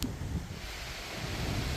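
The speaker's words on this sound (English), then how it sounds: "It is crazy windy today in Kansas." Steady wind in Kansas roars and buffets the microphone, a loud, rumbling rush with no voices.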